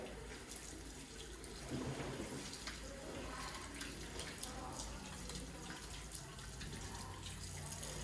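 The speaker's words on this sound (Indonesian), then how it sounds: "Lalu bilas dengan air yang mengalir." Running tap water streams steadily while hands are rinsed during a handwashing routine, a continuous close splashing wash lasting throughout.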